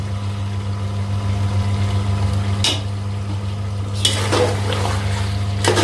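Yogurt, about a cup, being stirred into aloo chicken curry in a cooking pot, with a steady background hum and scraping, clattering bursts of the spoon working through the mixture near the end.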